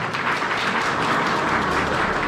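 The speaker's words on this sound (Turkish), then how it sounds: "Alkışlarla efendim." Audience applause at a fishing contest award ceremony in Şanlıurfa, Turkey, a steady, dense wash of clapping from a crowd that holds evenly throughout with no pauses.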